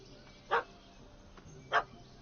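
A puppy gives two sharp, separate barks about a second apart in a PS4 video game, fairly close and clear over a quiet background.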